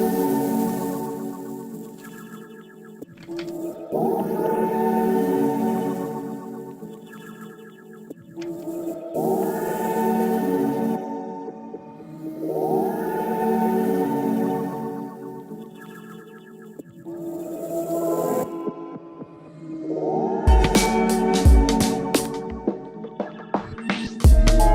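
Synthesizer with an erosion effect plays a slow phrase of sustained, harmonically rich notes, about five repeated swells, then brighter, denser stabs near the end; no voices.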